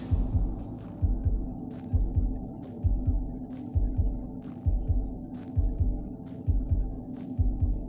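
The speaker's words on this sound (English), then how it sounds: "I hear the heartbeat and like the music" A heartbeat sound effect thumps in a steady double-beat rhythm, deep and prominent over a sustained humming musical bed in a geography guessing game broadcast.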